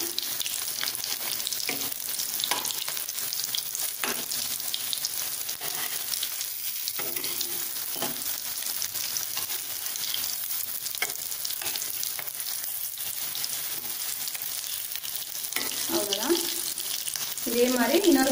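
Beetroot cutlets frying in a pan, turned so the other side browns. A steady close sizzle of hot oil runs throughout, with light scraping and clinking of a utensil toward the end.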